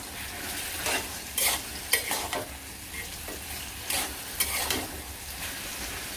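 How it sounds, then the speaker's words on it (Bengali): Curry stir-fried in a pan, a steady low sizzle broken by repeated bursts of scraping and clattering from a spatula or spoon against the metal, with no talking. "সেটা একটু ভাজি ভাজি করে নিয়ে হালকা একটু ঝোল দিয়ে দিব।"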